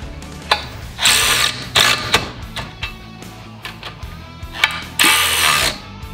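Ratchet wrench tightening winch mounting bolts, heard as repeated bursts of close clicking pawl strokes separated by short pauses, with light handling clatter in between and no talk.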